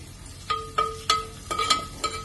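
Ginger and garlic dropped into very hot oil: short sharp sizzling bursts pop at irregular intervals over a quiet background, close and moderately loud, with no talk.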